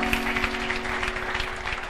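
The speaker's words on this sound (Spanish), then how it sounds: "dele palmas al Espíritu Santo" A Pentecostal church congregation claps in praise during worship, steady dense clapping over a sustained musical drone, moderately loud and continuous throughout.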